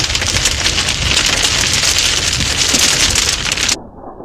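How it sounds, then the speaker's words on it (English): Heavy rain drums hard and steadily on a vehicle driving through a Utah storm. The loud, dense hiss cuts off abruptly near the end. "And then we drove into the rain."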